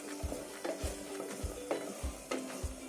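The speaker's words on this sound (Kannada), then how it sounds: "ಮೊಟ್ಟೆ ಚೆನ್ನಾಗಿ ಫ್ರೈ ಆಗಲಿ ಮಸಾಲೆಯಲ್ಲಿ." Eggs frying in masala for egg biryani, a close sizzle broken by regular stirring scrapes and soft knocks of the spatula against the pan, repeating about every half second.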